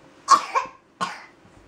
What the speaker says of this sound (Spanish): Empezó con su tos ahora.